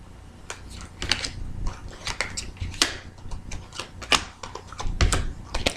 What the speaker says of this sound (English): So I have been shuffling some cards here.